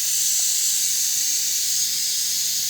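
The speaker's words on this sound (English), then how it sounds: "So I'm going to blow compressed air through every passage that the fuel runs." Compressed air hisses steadily through the fuel passages of a 3.3 hp Mercury outboard carburetor, a continuous bright, high-pitched blast with no talking.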